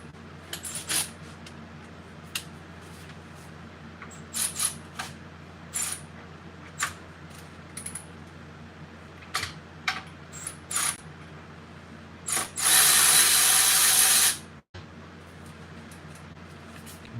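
Bolts being loosened with hand tools on a Yamaha Radian motorcycle during a scrambler build in a garage, heard as scattered metallic clicks and clinks, with one sustained loud grinding or ratcheting burst near the end.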